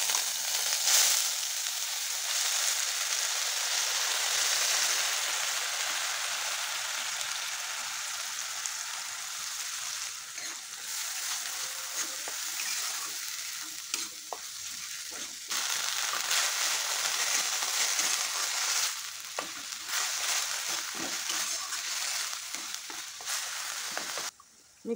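A paste of ginger, garlic, onion and cumin is poured into hot oil in a pan and sizzles steadily, a close, bright hiss with faint stirring scrapes and no talk.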